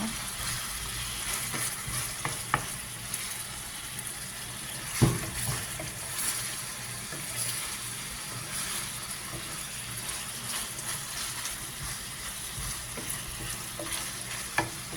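Cauliflower sautéed in a pan with tuna and broccoli gives a steady low sizzle and frying hiss, with occasional stirring clatters and a sharper utensil knock near the middle, no talking.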